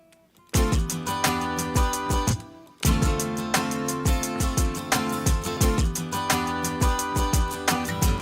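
Band instruments play the end of a song's chorus during a preproduction session: a brief lead-in, then a dense, loud run of steady repeated strummed or struck chords with a short pause before the pattern resumes.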